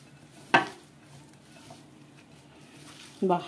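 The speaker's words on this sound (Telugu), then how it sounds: "చక్కగా నీట్గా అన్నీ చక్కగా కలిపేలాగా అన్నీ ఈవెన్గా కలిపేసేసుకుందాము" A spoon scrapes and knocks against a bowl while cabbage pachadi mixture is stirred. There are two sharp clinks roughly three seconds apart, with faint soft mixing in between in a quiet kitchen.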